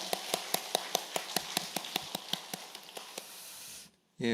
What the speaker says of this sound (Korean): 우리 축복과 또 격려 박수 같이 하도록 하겠습니다